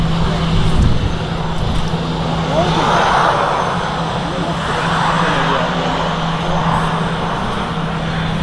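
An Etihad airliner rolls for takeoff at Manchester Airport, a rising, swelling jet roar building in waves over a low steady hum, heard from a distance with people talking nearby.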